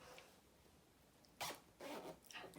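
Zipper on a hand-sewn felt pizza pouch being pulled shut in two quick, close strokes after a quiet pause.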